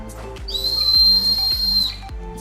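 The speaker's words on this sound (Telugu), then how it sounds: "ఇది విజిల్ రాఖీ." A toy whistle built into a children's rakhi blows one sustained, shrill, steady tone for about a second and a half, close and loud, over a low background hum with soft thumps.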